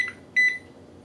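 A Garrett Pro-Pointer II pinpointer metal detector gives two short electronic beeps on power-up, a quick tone followed by a slightly longer one, close and clear over a quiet background.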